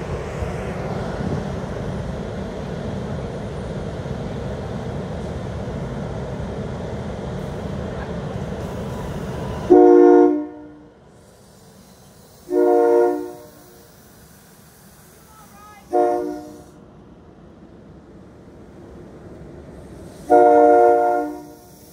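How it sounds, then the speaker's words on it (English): A train at a railroad crossing with a malfunctioning pedestrian signal rumbles loudly and steadily for about ten seconds, then falls quiet, leaving four short tonal bursts spaced a few seconds apart. "The train just stopped and now it's trying to move."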